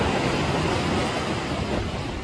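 Cold wind roars steadily across a seaside fishing spot, a loud, unbroken broadband rush mixed with surf-like noise and no talking.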